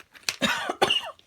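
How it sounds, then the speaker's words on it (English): A woman coughs two or three times in quick harsh bursts, close and fairly loud, with no other sound around them. "when you do talk, you end up coughing"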